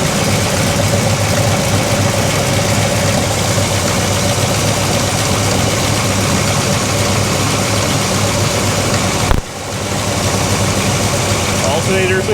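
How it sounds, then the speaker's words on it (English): A big block Chevy engine idles loud and steady with a rattly alternator bearing, a continuous rough drone that cuts off abruptly near the end, leaving a quieter hum. "It sounds like it's a rattly bearing"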